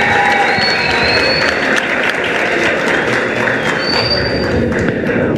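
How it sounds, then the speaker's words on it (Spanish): Loud, dense applause from a large audience for a singer at a music contest, continuous and close, with crowd noise and some cheering mixed in throughout. "Un fuerte aplauso para ella, por favor."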